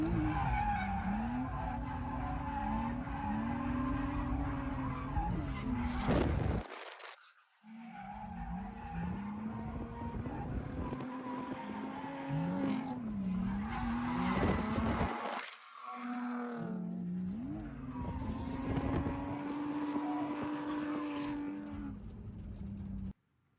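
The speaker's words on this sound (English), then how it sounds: "So here's an example of me drifting." Car drifting with its rear end sliding out, long screeching tire squeals over a revving engine, repeated in several sustained passes separated by short breaks.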